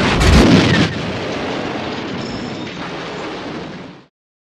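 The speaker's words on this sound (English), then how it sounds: "Super laser has been destroyed." A massive explosion destroys the super laser in the Lego Star Wars video game, opening with a loud deep blast and fading into a long rumbling roar that dies away after about four seconds.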